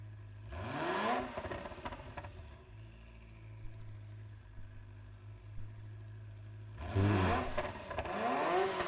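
A non-engine-swapped car in Gran Turismo 7 revs twice, with a short rising engine burst near the start and another near the end, and a quieter low idle hum in between.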